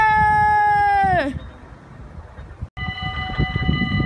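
A train passes at Nieuwstadt, its horn-like tonal whine sliding down in pitch before fading into quiet rumble, followed by a sharp cut and a steadier humming drone with rattling undercarriage noise.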